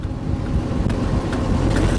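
An American LaFrance fire truck rolls around Manchester Memorial Hospital in cold weather, its engine a steady low rumble with road noise throughout, faint clunks and rattles now and then, no voices.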